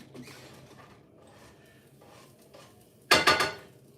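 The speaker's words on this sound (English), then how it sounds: "Let's go ahead and throw some of these things in the pan because I'm heating the pan." Peppers land in a heated pan with a sudden loud clatter and sizzle burst near the end, following a few quiet seconds of faint kitchen noise.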